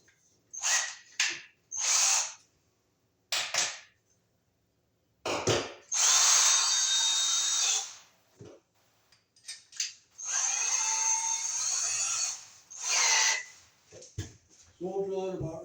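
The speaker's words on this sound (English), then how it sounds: "So first we'll get a hole drilled right here for our wire to go through" A power drill whirs in repeated short bursts while drilling a hole in a wall for wiring, several brief spurts followed by longer sustained runs, loud and close with pauses between.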